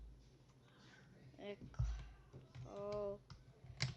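Fingers tap out a few quick, soft keystrokes on a computer keyboard, close and quiet, mixed in with a person speaking.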